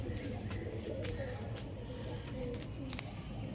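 Pigeons coo softly in a low, throaty rumble over a steady background hum, with faint rustling and a few brief clicks.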